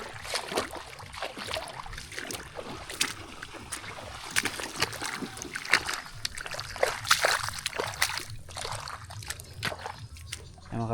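Water being shoveled with a spade to move it quickly through a muddy channel, irregular sloshing splashes and scrapes repeating close by over steady flowing water, with occasional voices.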